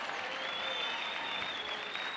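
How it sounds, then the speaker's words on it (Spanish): A studio audience at a talk show applauds with steady, sustained clapping that stays fairly faint and even throughout. "¿Ustedes aplauden porque sacaron al Medellín o porque él contó eso?"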